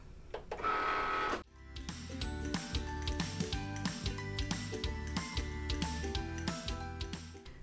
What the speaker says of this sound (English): we're just going to load our mat into the machine and begin the cut